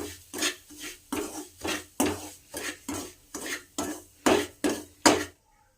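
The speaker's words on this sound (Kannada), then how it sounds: "ತುಪ್ಪದಲ್ಲಿ ನೀಟಾಗಿ ಫ್ರೈ ಮಾಡೋಣ." Medium semolina frying in ghee in a pan is stirred with about a dozen steady, rhythmic scraping strokes of a spoon against the metal. Each stroke is close and distinct, and there is no talking.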